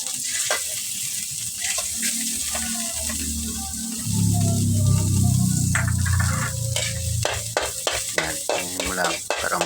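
Garlic sautéing in oil in a pan for a Filipino pork and chicken stew, a low frying hiss that swells louder midway, followed by a run of sharp spatula clicks and scrapes near the end.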